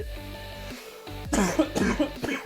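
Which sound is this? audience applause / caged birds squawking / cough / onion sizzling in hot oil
cough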